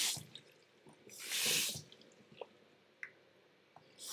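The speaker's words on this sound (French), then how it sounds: "On rince bien du mieux qu'on peut. On essore, on rince," A wig is rinsed and wrung out in a sink, giving soft wet squelches and trickling water with a few drips, close but quiet, in short gentle bursts.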